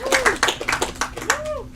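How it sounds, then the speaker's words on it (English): A small workshop audience gives a brief, scattered round of handclaps, a handful of distinct claps in quick succession mixed with people talking nearby. "So give me an applause"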